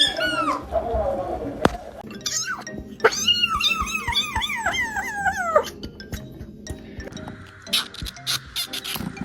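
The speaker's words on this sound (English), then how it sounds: "Wow, that was a big meow." Close cat meows, high and squeaky like a toy, in a rising and falling run of several calls. A person talks softly around them.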